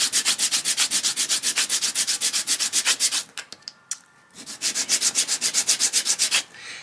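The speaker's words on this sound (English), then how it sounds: "when you sand it a little bit, you can see how it fits up" Sandpaper rubbing back and forth on a wooden dulcimer part, a fast steady rhythm of loud, close strokes that pauses briefly midway before resuming.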